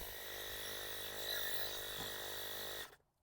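A small portable air compressor tire inflator runs with a steady buzzing motor whine, close and fairly even, until it cuts off abruptly near the end, leaving silence.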